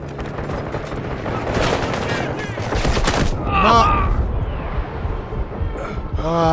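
Shotgun blasts and other gunfire ring out in a Delta Force match, dense repeated shots clustered in the first half amid battlefield noise, with voices talking over the action.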